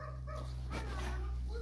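Dog barking nearby indoors at night, a short yip and whimpering bark over a steady low electrical hum.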